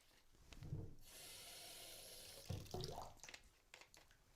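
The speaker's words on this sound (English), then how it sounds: "just add a little water." Tap water runs steadily into a sink during a home kitchen experiment, a broad hissing rush lasting a couple of seconds, with fainter splashes and handling noises before and after, close and moderately loud.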